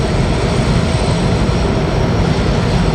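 A Porter airliner taxis to the gate at Washington Dulles, its engines making a loud, steady low roar with no break.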